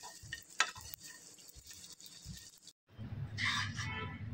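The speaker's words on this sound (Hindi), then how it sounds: "किशमिश, ये सब फ्राई करूंगी।" Raisins fry in a pan, a quiet soft sizzle with scattered light clicks and scrapes of stirring, then a brief gap before a fuller crackling sizzle resumes.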